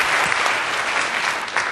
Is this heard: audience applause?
yes